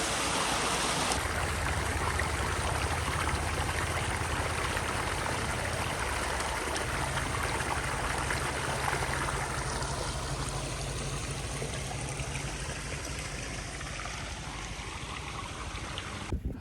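Water from a motor pump gushing into a channel, a loud continuous rushing flow close by that stays steady throughout with no voices.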